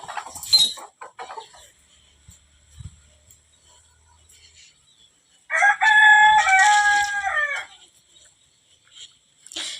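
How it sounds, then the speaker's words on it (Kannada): Village chickens cluck softly and scratch nearby before a rooster lets out one loud, long, close crow; no one speaks. "ಕೋಳಿ ಕೋಳಿ ಕೋಳಿ ಇಷ್ಟಲ್ಲೇ ಕುಂದಿರ್ತಾವ ನೋಡ್ರಿ ಕೋಳಿ."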